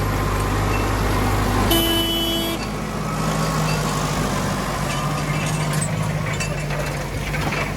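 A Deutz 6140 tractor of 140 horsepower pulling a plow across a field, its engine a steady low drone close by, with a brief tonal whine near the start.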